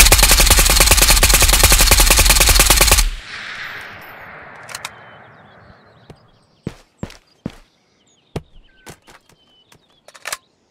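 An M4 rifle in the Ghost of Tabor video game fires a rapid, loud full-auto burst for about three seconds, then a fading echo and a scatter of sharp clicks and handling knocks.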